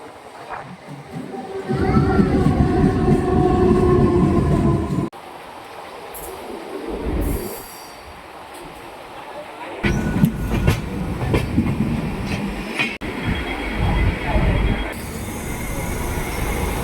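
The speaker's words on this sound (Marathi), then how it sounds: "म्हणजे फायनली ट्रेन येलेली आहे." A Mumbai-bound train arrives at a station with loud rumbling, wheel clatter and long metallic squeals that rise and fall over the clip, broken by abrupt shifts in the sound, and people talk faintly in the background.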